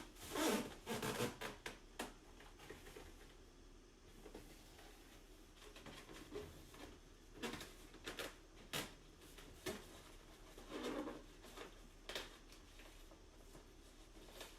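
Masking plastic is pulled taut and pressed onto tape, making repeated crinkling, rubbing and rustling bursts at close range with brief pauses between them.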